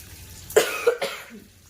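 Two or three sharp coughs close by in quick succession in a kitchen where fish is cooking, followed by a brief throat-clearing rasp, with quiet background otherwise.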